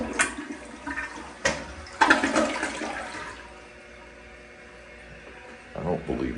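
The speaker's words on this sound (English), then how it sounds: "We have a Kohler toilet." A Kohler toilet in a downtown Baton Rouge hotel bathroom flushes with a loud rushing gush that tapers into a quieter refill trickle and hiss, with a second surge near the end.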